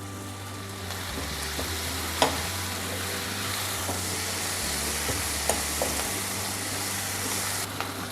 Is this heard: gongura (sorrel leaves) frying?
yes